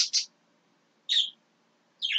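Birds singing outside, faint and distant: three short, high chirps spaced about a second apart over a quiet background.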